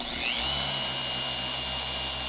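A dual-action polisher buffs the paint on a Camaro at low speed, a steady close mechanical whir with a rising whine near the start, running alone without talk.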